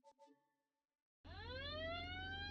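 A crank-style vehicle siren in the BeamNG driving game, starting abruptly after a brief silence and rising steadily in pitch as it winds up, loud and close, following a short burst of game noise at the start.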